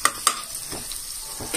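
Onions fry in a pan with a broad, steady sizzle, broken by a couple of sharp scraping strokes as they are stirred.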